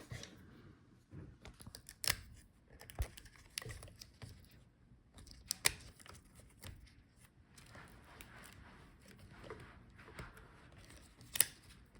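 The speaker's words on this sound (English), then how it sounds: "So unplug all the cables." Cables unplugged inside an Asus Zenbook Q415MA laptop during a teardown make faint, scattered plastic clicks and small snaps, with a few sharper pops against a quiet background.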